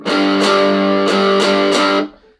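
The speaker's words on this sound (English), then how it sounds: "As long as you have a distortion setting on your amp, you'll want to turn that all the way up" An electric guitar played through an amp with the distortion turned all the way up gives thick, saturated sustained chords, a few struck one after another, loud and close, then cut off sharply with no talk.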